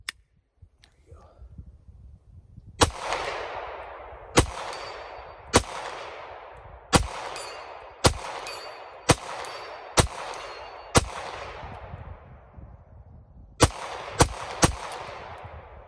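Pistol shots during a magazine spring test with a Shield Arms S15 magazine, gun fouled with sand and grit: about eleven loud, sharp reports fired outdoors at an uneven pace, some in quick pairs, each followed by a ringing echo.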